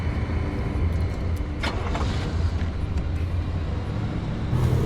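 A car drives in the survival game Pacific Drive, its engine rumbling low and steady throughout. A few faint rattles and thumps rise briefly above the constant road drone.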